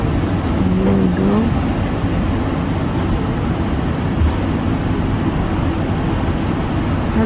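A long train ride through the Netherlands near Den Bosch and Eindhoven, heard from inside the carriage as a steady, loud low rumble and wheel-and-rail hiss that continues unbroken throughout, with no talking.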